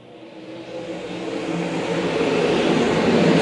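Race cars take the green flag at Lakeside Speedway, their engines rising together into a building, whirring roar that grows steadily louder over a few seconds with no voices.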